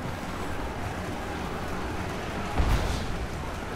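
Steady rushing water and ambient wash in Rise of the Tomb Raider, a continuous broad bed of sound with a brief heavier splash or thud near the end.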